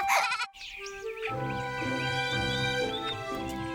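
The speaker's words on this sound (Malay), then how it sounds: "Dengan kambing pun takut ke?" A goat bleats close by in a long, wavering, nasal cry, with a brief sharp sound just before it and faint background activity behind.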